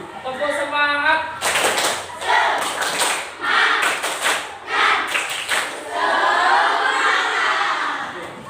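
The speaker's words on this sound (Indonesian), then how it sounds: "Tepuk semangat." A group performs the 'tepuk semangat' rhythmic clapping routine led by a teacher at a school, with sharp patterned claps in bursts alongside shouted voices and chatter, close and loud.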